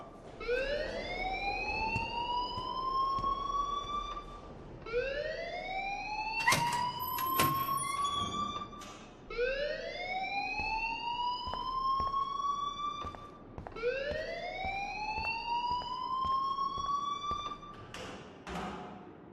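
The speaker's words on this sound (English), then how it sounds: "please turn off that alarm since that's your job" Rising, wailing electronic alarm in the video game Life is Strange, repeating in four long sweeping cycles with bright harmonics, loud and continuous with no talk over it.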